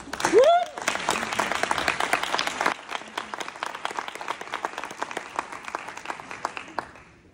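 A conference audience breaks into sustained applause to welcome a speaker, dense clapping that follows a brief opening voice and then thins out and fades toward the end.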